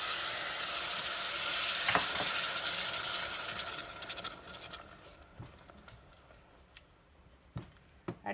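Tomato puree hits a hot frying pan while green dal cooks, setting off a loud sizzle that gradually dies down, with a few sharp clinks of stirring toward the end.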